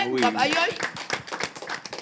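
Clapping at a cultural song-contest ceremony in Trinité, a series of distinct, fairly close hand claps in an uneven rhythm, with a voice speaking over the start.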